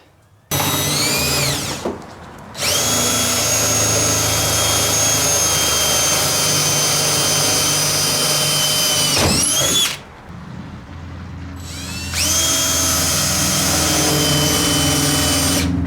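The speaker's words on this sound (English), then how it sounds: "This hole is not getting drilled straight." A power drill bores a hole into a Ford F150 bullnose pickup, loud whining bursts of steady drilling separated by two brief pauses, close and alone.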